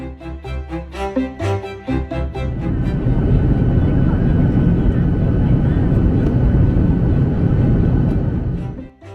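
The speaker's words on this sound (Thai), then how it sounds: "เตรียมแลนดิ้งนะคะ" Steady, loud roar of a passenger airliner's engines filling the cabin as the plane prepares to land over Myanmar. A voice talks briefly at the start before the continuous drone takes over.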